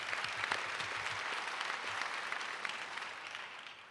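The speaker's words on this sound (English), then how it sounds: "A well-deserved round of applause." A luncheon audience claps warmly, a dense steady round of applause from a crowded room that slowly thins and fades near the end.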